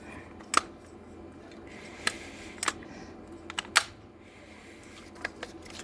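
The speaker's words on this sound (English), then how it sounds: "that is now ratcheting properly" An MGE fishing reel's ratchet clicks in sharp, separate bursts, about seven or eight of them spread irregularly, close up and fairly loud against a quiet background.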